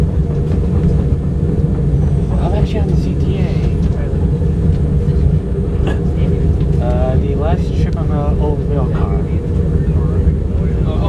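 A CTA 2400 Series railcar train runs on track in Chicago, giving a loud, steady rumble and rattle with squealing wheel tones throughout, while people talk faintly over the noise.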